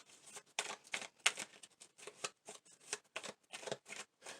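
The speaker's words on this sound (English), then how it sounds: "we are going to pull a few message cards for you, Leo." A deck of message cards is shuffled and pulled by hand, giving a steady run of crisp riffling and flicking bursts with short gaps, close and fairly soft, with no talk.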